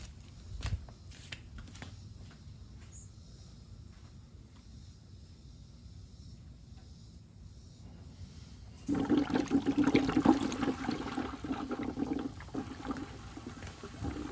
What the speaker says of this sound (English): Garden hose is already going in, so I'm gonna go turn it on real quick.